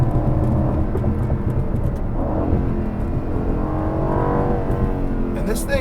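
A 2021 Aston Martin V8 Vantage Roadster engine runs steadily close by, its note rising and falling with revs over a constant low rumble, while a person talks over it.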